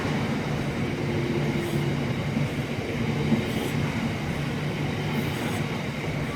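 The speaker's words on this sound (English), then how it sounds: "So this train's heading to Acton." A train passes Reading West station, rumbling steadily at moderate distance, wheels clattering on the rails with a continuous mechanical roar and faint squeals.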